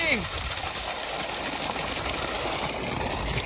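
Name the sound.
submersible pump gushing water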